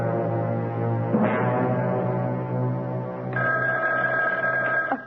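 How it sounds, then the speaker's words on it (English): An old-style telephone rings in a radio drama, a loud steady electric bell ringing alone, with a second higher-pitched ring tone joining in over the last part. "That telephone never seems to stop ringing."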